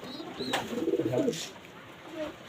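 Giribaz pigeons in a pigeon loft give a short, soft cooing call, close by, with a faint chirp and quiet background.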